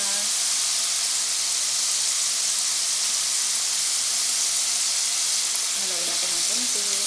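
French fries frying in hot oil, a dense steady sizzle and crackle throughout, close and even, with a brief stir or murmur near the end.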